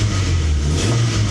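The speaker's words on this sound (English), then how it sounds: "Have a quick listen to the engine rev." The twin cam engine of a 1997 Toyota Corolla van with automatic transmission revs briefly up close, a steady loud mechanical drone whose pitch climbs and falls.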